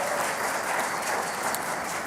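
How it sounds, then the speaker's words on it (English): Steady audience applause greets newly elected school board members at a swearing-in and organizational meeting, a dense, even wash of many hands clapping throughout the short stretch with no voices on top. "Let's give them another round of applause."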